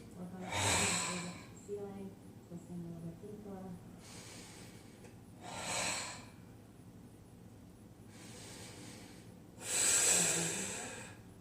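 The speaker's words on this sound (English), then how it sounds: "we're going to take about 4 breaths together. Really slow, steady, with the breathing." Slow, steady breathing during a power vinyasa yoga flow: long airy inhales and exhales in a regular rhythm, close to the microphone, with some soft speech between breaths.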